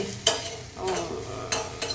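Pieces of rui fish fry in a pan, a close hiss that swells into bright sizzling bursts as the pieces are stirred or turned, three or four times in quick succession.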